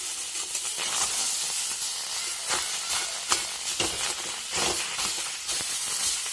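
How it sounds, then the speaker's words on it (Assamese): Steady hiss of big pieces of fish, including kawoi fish, frying in oil in a pan for an Assamese vegetable and fish curry, with occasional crackling pops over the constant sizzle. "এতিয়া এইখিনি ভাজি হৈ থাকক।"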